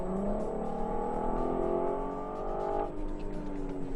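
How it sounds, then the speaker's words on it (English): An Audi TT Quattro with four-wheel drive growls hard as it accelerates out of a corner at the Chennai racing circuit, a loud, raw engine note rising steadily in pitch before easing off near the end, with no talk over it. "Just a fantastic growl, real raw, pure growl from the engine as it punches its way out of the corner"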